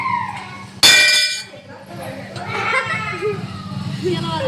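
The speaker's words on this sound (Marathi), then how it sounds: "घंटा वाजा लावा ना. वाजलं" A temple bell at a Mangir Baba shrine is struck once, a sharp bright clang that rings out and decays while people talk and chuckle nearby.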